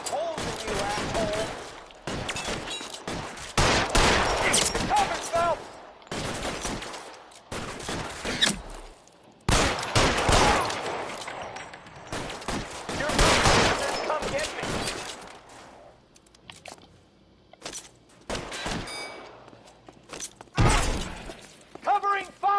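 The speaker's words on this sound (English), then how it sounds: "They're still shooting." Gunfire in the crime game L.A. Noire, with dense, loud bursts of shots, shattering impacts and ricochets in a running firefight, mixed with shouting voices throughout.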